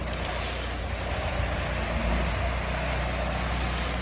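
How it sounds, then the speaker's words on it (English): An 8-gallon-per-minute pressure washer fed by a booster pump rinses soap off the outside of a house, giving a loud, steady rushing hiss of water spray with no break. "8 gallon a minute pressure washer, but I'm in front using the booster pump"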